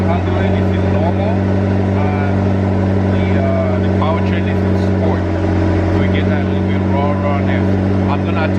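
Loud, steady drone from an Audi R8 V10 Plus or McLaren 650S Spider sports car engine idling high after a cold start, continuous throughout with a person talking over it.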